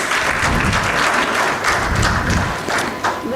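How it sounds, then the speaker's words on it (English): A conference audience applauds loudly after a document release, many hands clapping in a thick, slightly uneven burst with a few nearby thumps and no talk. "Can we give a huge round of applause for the released document?"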